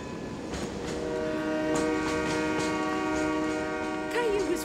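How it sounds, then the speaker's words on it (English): A cartoon train rumbles steadily and draws closer, its horn sounding in long sustained tones before a rising squeal near the end. "I hear the train."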